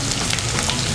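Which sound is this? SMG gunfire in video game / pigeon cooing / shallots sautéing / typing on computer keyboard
shallots sautéing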